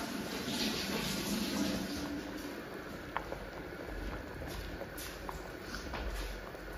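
Water boiling in a pot for mutton biryani with homemade masala, a steady rolling hiss of bubbling with a few small clinks, close and continuous with no talking.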